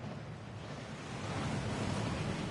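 A waterfall in the Hogwarts Legacy video game rushes in a steady, broad roar, loud and continuous with no other sounds.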